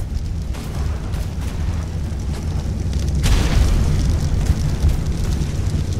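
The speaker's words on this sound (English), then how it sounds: "He's ramming us." A ship rams a galleon in the game Atlas: a steady low rumble swells into a heavy, crunching boom partway through, then a louder, sustained roar with no voices.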